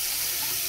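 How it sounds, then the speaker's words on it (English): Water runs steadily from a household faucet, a continuous close hiss with no pauses, heard on its own. "We're going to turn on our faucet."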